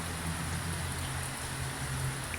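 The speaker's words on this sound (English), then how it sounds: "It's raining." Morning rain falls steadily over a backyard with a filling pool, a soft, even hiss of drops with no voices, faint and constant.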